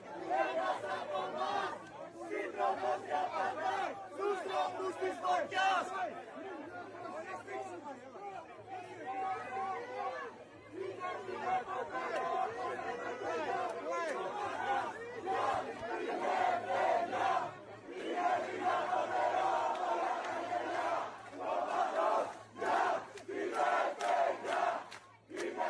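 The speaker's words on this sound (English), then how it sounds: "these people just keep cheering" A large crowd cheering and shouting in waves, dense voices chanting and calling out continuously over a low steady hum, loud and sustained throughout.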